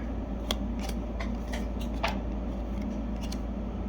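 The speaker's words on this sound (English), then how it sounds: "Just rip through these base cards here." Hockey trading base cards are flicked through quickly by hand during a box break, giving irregular crisp snaps and swishes over a steady low background hum.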